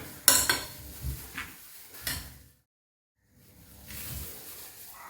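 Chopped onion and other ingredients for uttapam are mixed in a bowl, giving a few sharp clinks and scraping strokes of a spoon against the bowl, then a short pause before softer stirring resumes.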